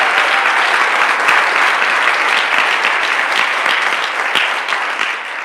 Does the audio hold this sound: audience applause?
yes